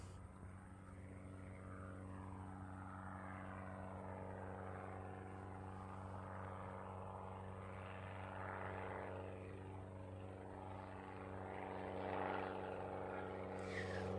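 An ATR turboprop taxis at Christchurch Airport, its propellers giving a steady droning hum with sustained tonal whine, swelling and easing slightly at a moderate distance.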